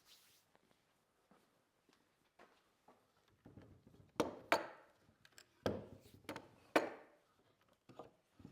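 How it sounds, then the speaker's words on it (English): Rubber mallet tapping the legs of an antique G. L. Lines rocking horse, a few faint soft taps early on, then a cluster of louder, sharper knocks and thuds with short gaps, close by and without talk. "we'll take a rubber mallet and let's just tap on those legs and see what happens"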